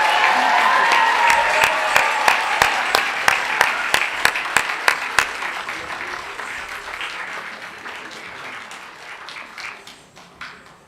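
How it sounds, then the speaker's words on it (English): An audience at a Bharatanatyam arangetram in Birmingham, UK applauds the musicians, clapping together in a loud rhythmic unison beat that loosens into scattered applause and gradually fades. "A big round of applause, ladies and gentlemen."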